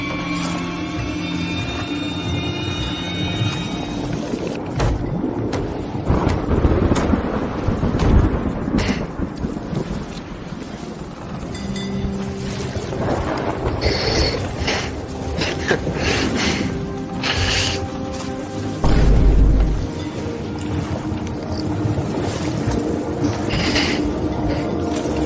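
Thunderstorm with heavy rain and wind battering a leaking boat, a steady loud wash of rain with rumbling thunder swells throughout, including a deep low boom near the end.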